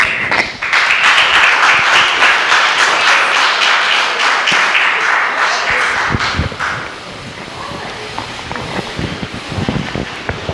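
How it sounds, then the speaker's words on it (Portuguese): Congregation applauding the Lord in church, a dense wash of clapping from about half a second that holds steady for several seconds, then thins into scattered claps and taps toward the end. "vamos aplaudir ao Senhor"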